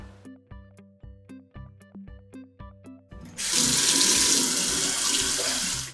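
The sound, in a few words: water running from a newly installed sink faucet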